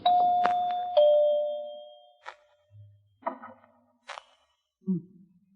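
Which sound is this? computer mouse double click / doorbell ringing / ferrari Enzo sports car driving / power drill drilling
doorbell ringing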